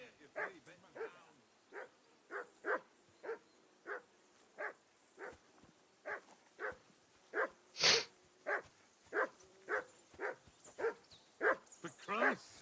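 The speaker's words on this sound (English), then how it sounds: "Call off that damn dog before he wolfs down the last of our mates." A dog barks repeatedly in Kingdom Come Deliverance II, a steady run of about twenty sharp, evenly spaced barks at moderate distance, with a brief voice cutting in near the middle.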